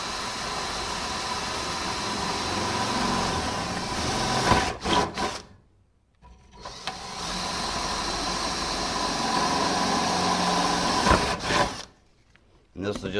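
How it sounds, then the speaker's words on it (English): A handheld power drill bores fan holes in a custom computer case, a steady loud whir running for several seconds, stopping briefly, then starting again for a second long run before cutting out. "So I'm going to go ahead and drill these two out."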